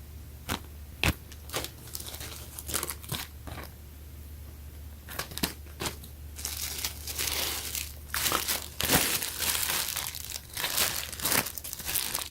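Crinkly plastic bag around a red Supreme Tentacle tee, size medium, being handled during an unboxing, with bursts of crackling and rustling through the whole stretch, close and fairly loud, no talking.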